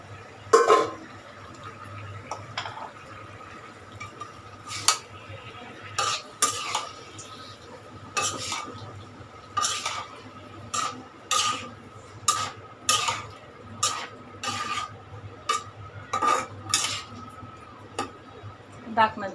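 Radish pieces are stirred into spiced masala in a pan for a shing fish dish, with about fifteen rhythmic scraping strokes of a spatula against the metal, close and clear, with faint talk in between.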